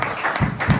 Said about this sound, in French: Applaudissons très fort pour la gloire de Dieu